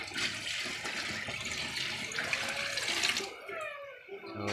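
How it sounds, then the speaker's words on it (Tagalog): Water poured into the tank of a homemade 12-volt DC air cooler, a steady rushing splash that runs for about three seconds before stopping, close and fairly loud. "So dagdagan pa natin yung tubig."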